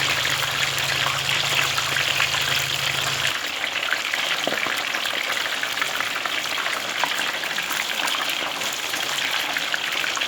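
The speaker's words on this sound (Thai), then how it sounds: "ทอดให้ปลาเหลืองเลยนะคะ" Tilapia fillets frying in hot oil for fried fish laab, a steady dense sizzle and crackle running close and continuous with faint stirring and popping, a low hum fading out early on.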